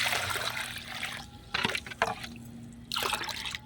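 Water splashes and trickles in several short pours into a container to dilute an insect repellent spray, loud and close, with brief pauses between bursts.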